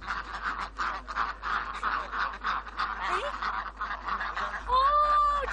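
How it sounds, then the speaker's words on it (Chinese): A flock of ducks heading home at dusk in Yunnan keep up a busy chorus of nasal quacks and honks, fairly close and continuous, with a louder, clearer call near the end. "鸭子们摇摇晃晃地回家"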